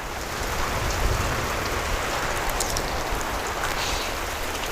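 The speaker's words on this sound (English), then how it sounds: "there's a lot of rain happening right here on top of us" Rain showers down on a Texas state park in early spring, a steady close hiss of drops pattering on surfaces with no pauses, loud and even throughout with no voices.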